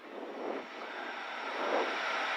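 A light training aircraft, heard from inside the cabin on a one-mile final approach to runway 14. Its engine drones steadily and loudly throughout, with no talk over it.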